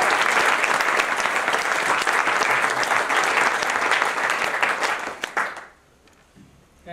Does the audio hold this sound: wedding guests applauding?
yes